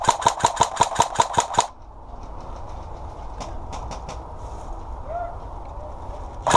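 Airsoft gun shots at an outdoor game, a rapid burst of about eight sharp, evenly spaced pops close by, then quieter scattered distant shots over a rumbling background.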